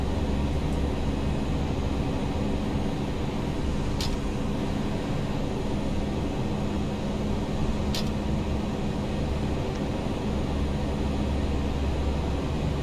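ToLiss A319 jet engines at climb thrust in the X-Plane flight simulator, a steady, loud roar that holds evenly throughout, broken only by two brief faint clicks.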